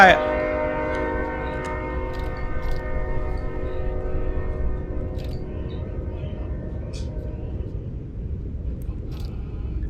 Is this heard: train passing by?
yes